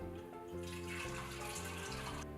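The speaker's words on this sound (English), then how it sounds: "now all I have to do is just pour it into my jar and then add the borax" Hot water from a pot is poured into a jar for a borax crystal solution, a steady close liquid trickle running continuously throughout with no talking.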